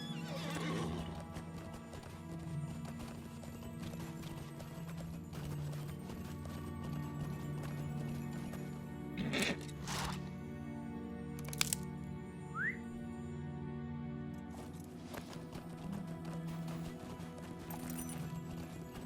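A horse in the online game LOTRO trots with a steady clip-clop of hooves, whinnying and neighing at moments, accompanied by a few sharp cracks and soft game ambience.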